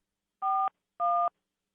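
Telephone dialing tones from a phone call to a hotel: two clean, identical beeps, each about a quarter second long, separated by a short gap and heard alone in silence.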